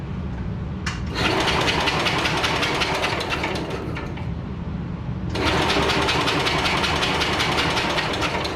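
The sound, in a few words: 1968 garden tractor lawnmower engine running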